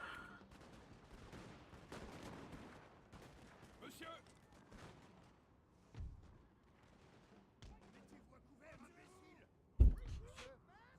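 Artillery and musket fire crackle in a Napoleonic battle from Napoleon: Total War, with scattered volleys and thumps, some distant, some nearer. One heavy boom comes near the end, and voices talk throughout.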